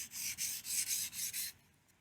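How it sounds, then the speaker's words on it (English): A kitchen knife drawn across a whetstone, using the whole surface of the stone: about six rhythmic, even gritty scraping strokes in quick succession, close and clear, then the grinding stops and faint room quiet follows. "use the whole surface of the stone so you don't end up just using one little area"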